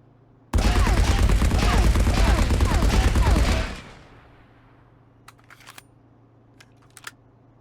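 A gun fires in a sustained automatic burst while aiming down sights in the shooter game Marauders, dense rapid loud shots for about three seconds, then stopping abruptly, followed by a few faint clicks.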